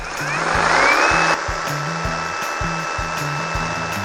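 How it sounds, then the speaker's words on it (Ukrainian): The work-area blower on a Dnipro-M cordless jigsaw runs with a steady whirring drone and an airy hiss, close and fairly loud. It swells briefly and then settles under a faint rhythmic ticking. "А тепер вам покажемо, як працює обдув робочої зони."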